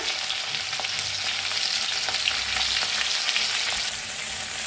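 Crushed garlic and green chili fry in hot oil in a wok, a loud, steady, dense sizzle with occasional light clicks of stirring throughout.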